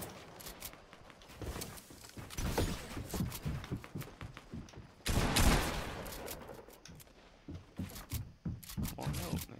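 Rapid bursts of gunfire in Fortnite, crackling in quick uneven volleys with a heavier cluster midway, under scattered player talk.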